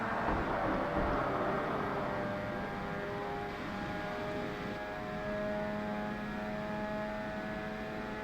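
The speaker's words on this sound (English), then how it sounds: "it kind of sounds like a rotary engine" A video game car engine in Forza Motorsport 1 with a rotary-like tone holds a steady, smooth whine throughout, its harmonics sliding gently in pitch as it cruises, with no voices.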